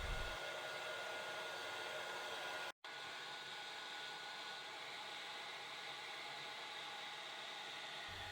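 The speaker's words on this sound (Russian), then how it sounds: "установите напротив нее вентилятор и включите самый мощный режим" An electric fan runs on its highest setting in front of an open freezer to defrost it, giving a steady, loud broadband whoosh that cuts out for a split second before resuming.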